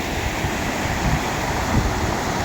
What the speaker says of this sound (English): It's nice to hear the water.